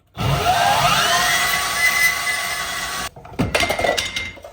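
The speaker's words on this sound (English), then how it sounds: "I'm gonna cut that bent axle out and we'll go from there." Power tool cutting out a destroyed, bent axle from a wrecked rail car, a sustained loud grinding whine for about three seconds, then a short pause followed by bursts of rougher cutting and metal clatter.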